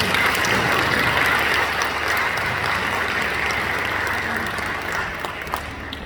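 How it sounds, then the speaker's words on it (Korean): Wedding guests applaud in a dense, sustained wash of clapping that fills the hall and then gradually thins out toward the end. "여러분들 축복의 박수 부탁드립니다"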